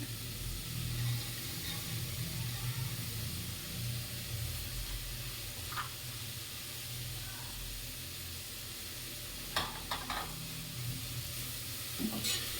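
Sprouted horse gram tipped into a hot pan for an easy home recipe, giving a steady low sizzle and hiss throughout with a few brief stirring scrapes and clinks near the end.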